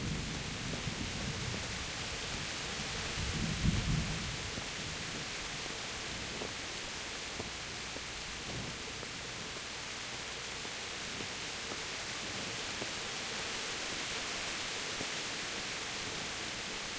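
Rain and thunder in a video game: a dense, steady hiss of rainfall throughout, with a low rumble swelling briefly early on, no voices.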